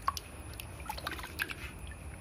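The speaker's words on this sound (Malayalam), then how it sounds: "പൊട്ടി നന്നായിട്ട് വെള്ളത്തിൽ നമ്മൾ രണ്ട് മൂന്ന് പ്രാവശ്യം വൃത്തിയായിട്ട് കഴുകിയെടുക്കുക" Cleaned, boiled tripe being rinsed in water, giving faint, scattered drips and small splashes at an uneven pace with no talk.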